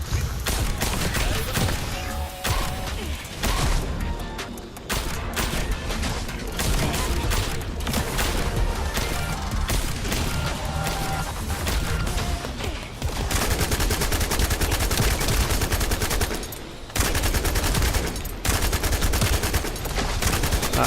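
Rapid bursts of automatic gunfire and weapon blasts pour out almost nonstop in the looter-shooter game The First Descendant, loud and dense, pausing only briefly twice amid the game's busy combat effects.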